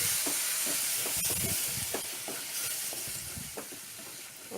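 Tomato paste being stirred into sizzling chole masala in a pressure cooker: a steady frying hiss close by, broken by the soft scrapes and clacks of a spoon moving through the thick mixture.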